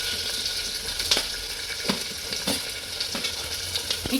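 Potato pieces fry in a hot cumin, chili and garlic tempering on low gas, giving a steady close sizzle broken by several sharp spatula scrapes and stirs.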